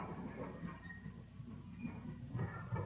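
A Norfolk and Western railroad car rolling down the hump in a classification yard, heard as a faint, steady rumble of wheels on rails at a distance, with no voices.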